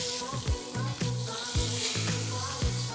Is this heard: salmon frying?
yes